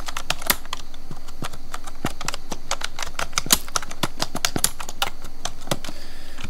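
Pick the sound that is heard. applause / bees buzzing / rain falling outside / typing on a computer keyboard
typing on a computer keyboard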